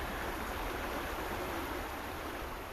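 Small stream flowing around rocks, a constant soft rushing babble with no breaks, heard alone with no voices.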